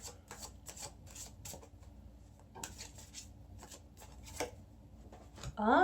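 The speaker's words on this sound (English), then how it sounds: "So let's shuffle the cards a bit and see what they have to say." Tarot oracle cards being shuffled by hand in a quiet room, a series of soft, rapid riffling bursts with short pauses between them, near and fairly faint.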